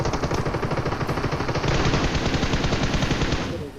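Rapid automatic M4 rifle fire in a mobile battle royale game, a dense sustained burst of shots lasting several seconds, loud and close with no talking.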